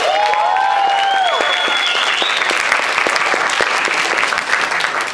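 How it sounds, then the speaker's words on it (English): A live audience breaks into steady, dense applause after a performance, close and continuous, with a few high whoops and cheers rising over the clapping early on before it evens out. "Please, another big round of applause for amazing performance."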